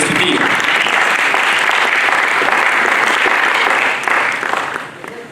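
Audience applause fills a theatre at a national drama festival, a dense sustained clapping from a large crowd that holds steady for several seconds before tapering off.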